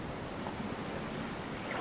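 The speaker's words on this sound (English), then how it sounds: "The sound of the ocean, those waves." Ocean waves in the survival video game Stranded Deep, a soft, continuous wash of surf with gentle swells, steady and moderately quiet, with no voices.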